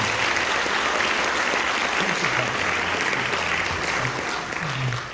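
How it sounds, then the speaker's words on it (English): A school audience gives a sustained round of applause for the graduating class of a high school concert band at an end-of-year concert. The clapping is full and loud, continuous throughout, and tapers slightly near the end. "One more round of applause for the class of 22 of the concert band."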